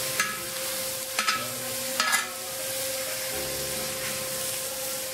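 Bacon sizzles steadily in a discada pan for a Sonora-style discada, with a few sharp scraping stirs near the start and a constant faint hum beneath the frying.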